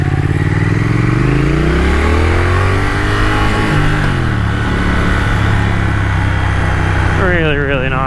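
A 2021 Triumph Thruxton RS engine drones loudly while riding, its pitch rising and falling with the throttle under heavy wind rush. Near the end it winds up sharply through gears.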